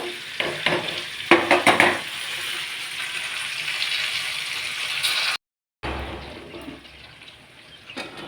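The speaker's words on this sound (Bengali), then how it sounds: "গুড়টা বসিয়ে দিয়েছি। গুড়টা একটু জাল উঠলে গুড়টা ছেঁকে তারপর দিয়ে দেবো।" Jaggery heating in a pot is stirred with a rattling, scraping spoon at first, then settles into a steady bubbling hiss. A brief cut to silence interrupts it.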